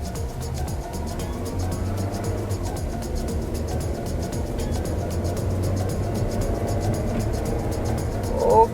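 A 2007 Toyota Caldina with a 1.8 engine on a test drive, heard as a steady low engine and road drone from inside the cabin that builds slightly toward the end.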